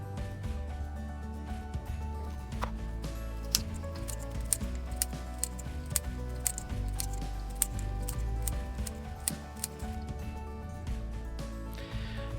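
Knife cutting halved Brussels sprouts on a cutting board, a series of sharp, close chopping clicks and taps in an irregular rhythm over a steady low kitchen background.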